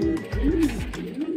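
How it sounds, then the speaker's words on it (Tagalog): Pet pigeons coo in a series of low, rolling, throaty calls, several overlapping phrases rising and falling close by with no talking. "sinamahan mo nga ako mag-abang ng ating mga alagang ibon, mga kalapatids"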